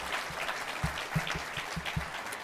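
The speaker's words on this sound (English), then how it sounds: "let's give yourselves a big round of applause," Audience applause at the Canadian Cinema Editors Awards ceremony in Toronto, a soft, fairly distant patter of clapping with a few low thumps, no voices over it.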